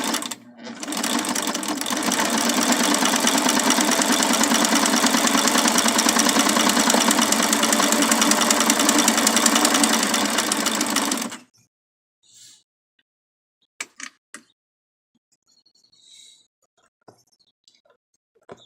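A Singer sewing machine fitted with a buttonholer runs at a steady, fast satin-stitch rhythm for about eleven seconds, close and loud, then stops, leaving only a few faint clicks and soft handling noises.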